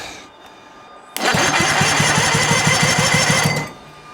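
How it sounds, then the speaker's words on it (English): A sailboat's engine cranks over through a bridged starter, giving a loud, even run of rapid mechanical chugs for about two and a half seconds before cutting off abruptly. "So the motor turns over fine."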